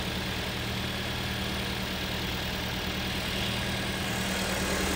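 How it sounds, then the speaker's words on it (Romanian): A 2018 Ford Mondeo 2.0 Hybrid engine idles steadily at close range, a smooth low hum with a faint mechanical whir, no voices. "Cam așa arată și motorul și cam așa se aude și motorul."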